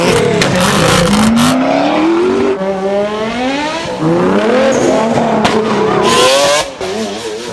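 An Opel Corsa D OPC fitted with a downpipe and race cat revs hard from up close, its loud raspy exhaust rising in pitch through repeated gear pulls with short drops between shifts.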